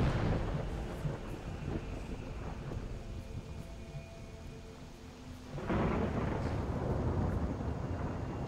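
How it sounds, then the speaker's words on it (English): Steady rain with rolling thunder in the Skyrim video game, a continuous dense wash of rainfall that swells into a louder rumble and downpour near the end, with no talking. "Let's get out of the rain,"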